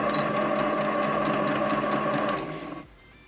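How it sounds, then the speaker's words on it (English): Sewing machine running loud and close at steady speed while back tacking, a continuous mechanical whir that slows and winds down to a stop near the end. "Going forward, keep sewing, push your back tack button, don't stop, the machine will go back by itself."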